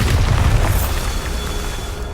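A Bombarda spell explodes in Hogwarts Legacy, a loud booming blast with a heavy low rumble that rolls on and slowly fades over about two seconds.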